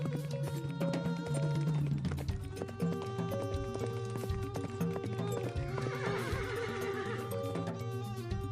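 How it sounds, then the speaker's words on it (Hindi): Horses neigh and whinny repeatedly over a steady clip-clop of hooves, with loud close whinnies standing out above the rhythmic trotting, as in a sound effect for riders travelling on horseback. "शिवाजी अपने 9 साल के बेटे संभाजी के साथ घोड़े से आगरा की ओर चल देते हैं।"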